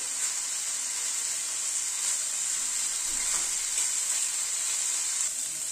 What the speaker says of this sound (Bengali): চিকেনটাকে একটু ভাজা ভাজা করে নিচ্ছি। গ্যাসের ফ্লেমটাকে হাই করে দিলাম।